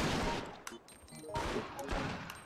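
Gunshots in Biohazard Outbreak File 2 on PS2, a few sharp reports over a busy game soundscape with light background voices, moderately quiet overall.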